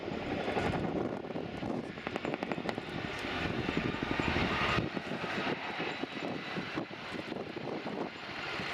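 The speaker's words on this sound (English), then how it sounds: "As the aircraft runs in now for a low-level orbit, look for the underside of the aircraft, sporting 3 hooks the aircraft can use to carry loads of up to 12 tons." A Chinook helicopter in a flying display at the RIAT 2016 airshow, its loud, steady rotor and engine roar with rhythmic blade chop holding throughout.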